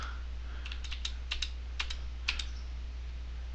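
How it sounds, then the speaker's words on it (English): Arrow keys on a computer keyboard are pressed to step through frames while tracking footage in Mocha for After Effects. Light, scattered clicks come in short clusters over a steady low hum. "hold down the arrow keys, the left and right arrow keys, to find the first frame"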